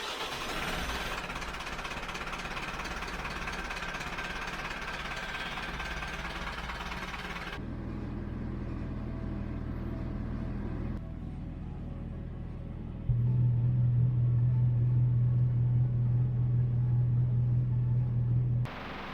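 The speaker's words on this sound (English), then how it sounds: "Let's start the engine." A vintage yacht's engine cranks and fires up, then settles into a steady, loud mechanical idle with a low droning hum, heard close by.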